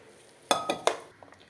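A spoon stirring rice, dal and coconut in a pan for Thiruvadhirai kali, three close scraping clinks of metal against the pan in quick succession followed by softer taps, with no talk.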